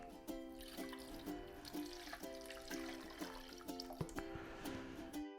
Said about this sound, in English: Let's see what happens when I pour this through.